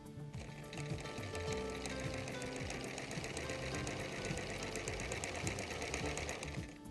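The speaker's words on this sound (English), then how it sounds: "We'll be stitching from this intersection to this intersection." A sewing machine stitches a quarter-inch seam on bias binding strips, its needle clattering in a fast, steady rhythm, close and fairly quiet, with no talk.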